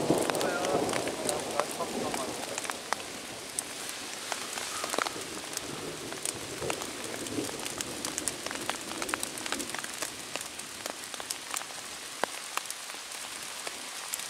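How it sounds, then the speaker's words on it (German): Heavy rain pours onto a tarp during a stormy overnight stay outdoors, a dense continuous patter with sharper individual drop hits scattered throughout, close and steady for the whole stretch. "weil es wieder regnet wie verrückt"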